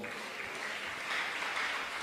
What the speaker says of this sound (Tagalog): Palakpak para sa Ginoo.